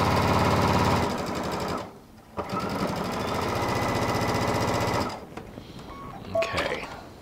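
A sewing machine runs in steady, loud bursts as it stitches a seam on a quilt block made from Tula Pink charms and strips, pausing briefly midway, then stopping and giving way to faint handling sounds.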